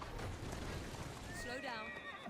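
A horse neighs with a wavering whinny over steady clip-clop of hooves in a video game, faint and mixed with other game sounds and speech in the background.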